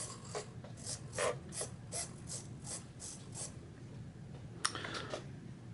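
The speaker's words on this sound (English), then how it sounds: "I'm moving it left and right, which moves the aileron servo." An RC aileron servo driven from a Spektrum DX6 radio gives a series of short, quiet mechanical whirring bursts as the stick moves left and right, in a rough rhythm, followed by one sharper click.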